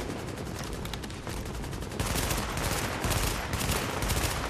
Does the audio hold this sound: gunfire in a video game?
yes